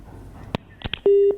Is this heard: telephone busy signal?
yes